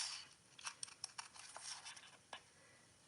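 Paper snips cut along the edge of card paper while decorating an envelope, giving quiet, irregular crisp snipping clicks spread across the stretch with short pauses, close by and faint, with no talking.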